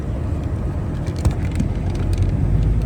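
A steady, close engine and road drone from a car being driven, continuous throughout with a couple of faint knocks, and no talk.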